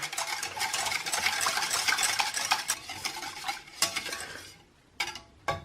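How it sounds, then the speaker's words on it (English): A whisk scrapes and clatters rapidly against a bowl of gelatin mixture in a steady rhythm up close, then slows and stops with a few final taps. "and I'll whisk it together."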